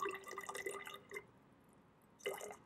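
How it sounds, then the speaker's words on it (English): Ferric nitrate solution trickles into a graduated cylinder in a chemistry lab, a close, quiet gurgling pour that stops briefly and then resumes with a short final splash. "take some of this ferric nitrate, and we got a graduated cylinder here"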